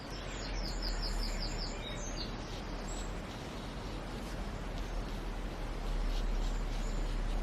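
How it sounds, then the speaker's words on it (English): A wren singing somewhere in the background, a quick run of high, bright twittering notes early on, faint and distant above a constant broadband outdoor rumble, with no speech. "I don't know if you can hear that bird in the background, that's a wren."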